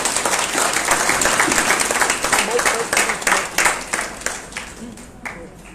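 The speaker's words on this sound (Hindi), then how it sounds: "तालियों के साथ इनका अभिनंदन करें" An audience in a hall in Shahjahanpur claps together in dense, lively applause that crackles steadily and then thins out into scattered claps near the end.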